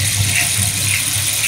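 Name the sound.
river flowing over stones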